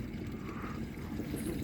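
A boat engine idles at low, steady rumble in Thompson Sound, Fiordland, on a Frewza F14 stopped near dolphins, with wind and water noise over it, fairly faint.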